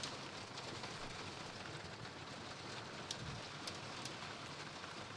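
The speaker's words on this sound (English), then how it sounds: "And now it starts falling a little bit harder, the rain." Steady, dense rain falls during an outdoor polo match, with a constant hiss of drops that fills the whole stretch, fairly faint and evenly spread, with no voices.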